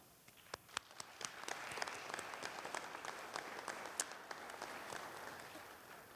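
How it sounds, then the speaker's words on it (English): Applause fills the hall at a winter commencement ceremony, a broad wash of many hands clapping with a few sharp individual claps standing out, moderately distant and continuous. "Please join me in applauding their work."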